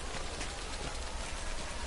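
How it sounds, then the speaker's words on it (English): Steady rain falling across an outdoor landscape in the video game Death Stranding, a continuous even hiss of droplets with no pauses, moderately quiet and heard alone. "It's raining"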